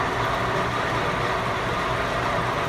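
A truck engine held at about 2,500 RPM during a power test, a constant dense roar at steady volume across the short stretch, no speech.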